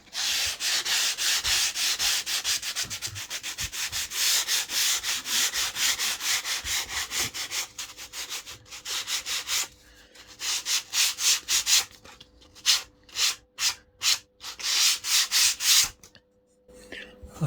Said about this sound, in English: I'll just sand it properly.